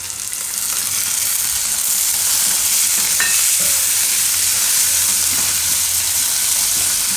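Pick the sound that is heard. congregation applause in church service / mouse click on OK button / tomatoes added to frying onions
tomatoes added to frying onions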